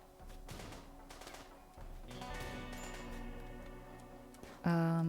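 Colonists trade gunfire in RimWorld, a scatter of faint clicking shots spread through a low, busy game soundscape with music-like tones, ending in a sudden louder burst of sound.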